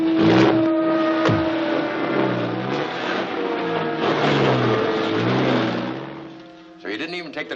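Truck engine from a 1950 serial rumbling and revving steadily under loud music, then fading near the end as the vehicle pulls away.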